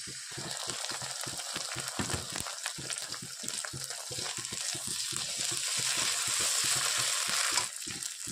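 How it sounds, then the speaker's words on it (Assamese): Onions browning in a pan with ginger-garlic paste and cumin added, giving a steady loud sizzle broken by rhythmic stirring scrapes throughout, with no talk. "পিয়াজখিনি ৰঙাকৈ ভাজি লৈছো আৰু এতিয়া দি দিম পিচি লোৱা আদা নহৰু আৰু জিৰাখিনি"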